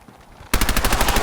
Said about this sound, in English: So we're going to shift over to this submachine gun.